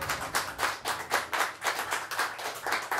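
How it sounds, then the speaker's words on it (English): A small open mic crowd claps for Sam Harrison in a steady, rhythmic pulse of roughly four beats per second, close and even, with no voices over it. "Round of applause for Sam Harrison."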